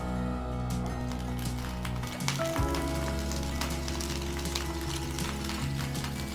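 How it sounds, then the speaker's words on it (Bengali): Sweet corn kernels frying in a pan, a continuous close sizzle over a dense bed of steady background noise, with a brief sharp clatter partway through. "এবারে সুইট কর্নগুলোকে একটু অল্প করে ভেজে নেব।"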